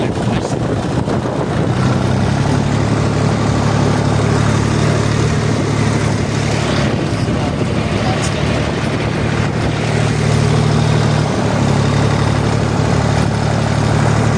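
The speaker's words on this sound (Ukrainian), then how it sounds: "Трактор гарчить" A heavy Jinma 244 tractor engine drones steadily and loudly throughout, a low constant rumble with rattling, close up and unbroken.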